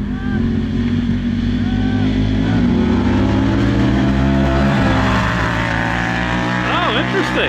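Kawasaki KRX1000 and Honda Talon 1000R side-by-sides drag race, their engines roaring steadily and loudly throughout, with rising whine as they accelerate and a voice heard faintly over the noise.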